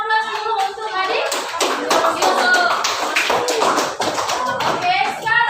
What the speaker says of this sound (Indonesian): Beri aplaus dulu untuk adik.